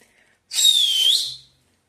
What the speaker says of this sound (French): Attention, je siffle.